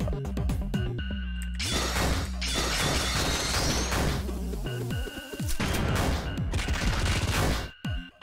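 Machine gun fist attack in the video game Lisa the Hopeful: loud rapid-fire bursts of crashing, smashing punch impacts in dense flurries, separated by brief pauses and ending in a sharp cutoff.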